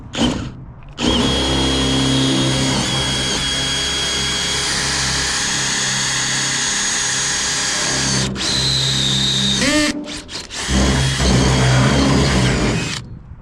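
A power drill bores holes into a pressure washing truck build, a loud, close, sustained whine that dips briefly as the bit pauses and then resumes.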